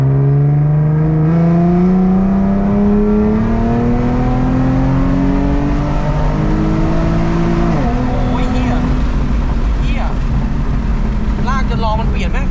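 A tuned car engine revs steadily upward through a long pull in one gear, its loud, continuous drone rising in pitch, dipping briefly at a shift and climbing again, close and dominant throughout.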